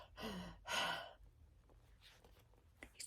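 A voice imitates panting, catching breath after hauling a wagon out of a creek: two heavy, drawn-out breaths close up, then softer, fainter breathing.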